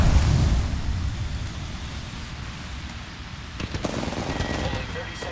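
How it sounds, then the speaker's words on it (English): Gunfire and a grenade explosion from an Apex Legends match on Xbox: a dense rumbling blast fades into a steady crackle of shots, with more sharp shots near the end. "Throw my grenade out."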